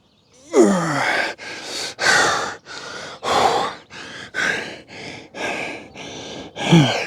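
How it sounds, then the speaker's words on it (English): A person pants heavily after a workout of bar exercises, each loud breath in and out repeating in a steady rhythm of gasps and sighs, close and alone with no talk. "Man, I'm breathing."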